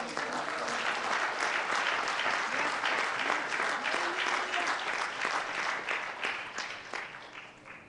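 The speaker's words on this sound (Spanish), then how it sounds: "¿Cuántos le dan un fuerte aplauso al Señor?" A church congregation gives a long round of applause during a Sunday service, dense steady clapping that fills the space and slowly tapers off toward the end.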